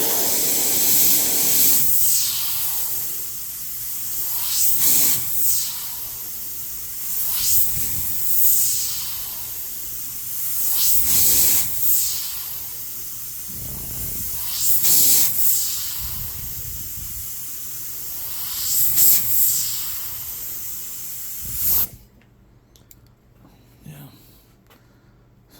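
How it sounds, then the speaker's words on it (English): A detailed airbrush fitted with a fine needle and nozzle sprays thinned paint in a series of short hissing bursts, roughly every two to four seconds, close and fairly loud, ending in near silence. "using a detailed airbrush and you have to over reduce your paint to spray and flow well"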